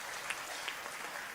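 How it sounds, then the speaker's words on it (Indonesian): Brief burst of steady clapping from a crowd at a religious sermon gathering, a dense patter of hands at moderate distance with no one speaking. "Tepuk tangan sepisan malih."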